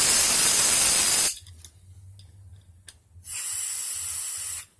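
Compressed air blasting out the ports of a Yard Machines lawnmower carburetor, two loud close hissing bursts of about a second and a half each, separated by a quiet gap with faint clicks.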